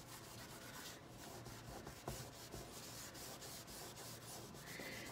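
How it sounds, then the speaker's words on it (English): A paper towel buffing ink off embossing powder on cardstock, heard as a faint, continuous dry rubbing and scuffing with quick repeated strokes at close range. "you just kind of buff the ink off of those spots off that embossing powder"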